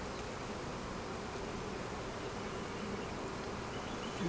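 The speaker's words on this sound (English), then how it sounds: "Saw a gaggle of bees running around all together" Honeybees humming inside an opened beehive during a spring inspection, a dense, even buzz that stays close and constant without pause.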